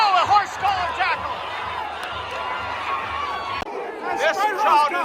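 At a high school football game, the stadium crowd roars in steady, agitated clamor after an uncalled horse-collar tackle. Loud overlapping voices keep on throughout and swell again near the end.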